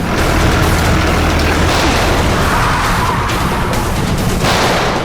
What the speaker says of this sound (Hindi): फायर कर रहे हैं।